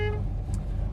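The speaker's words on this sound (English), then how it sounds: "horn," Horn of a 1969 Dodge Super Bee sounds a brief, close honk inside the car, lasting a fraction of a second over a low idling hum.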